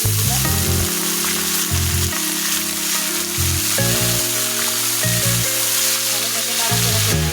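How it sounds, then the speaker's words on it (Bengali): Beef frying in a pan with onions already browned, giving a steady loud sizzle throughout, with a low-pitched hum running under it and no talk. "পেঁয়াজটা লাল লাল করে ভেজে নিয়েছি এখন মাংসগুলো আমি ছেড়ে দেব এখানে"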